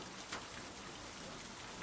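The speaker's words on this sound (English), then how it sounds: "Tonight, the rain settles over the rice terraces while you rest inside a wooden cabin, warm against the storm." Steady rain falls over rice terraces outside a wooden cabin on a stormy night, a soft, even hiss of drops on surfaces that carries on without a break.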